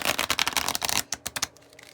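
Desert Illuminations tarot cards with linen-finish cardstock being shuffled up close, a rapid burst of crisp riffling clicks followed by a few slower, separate card snaps.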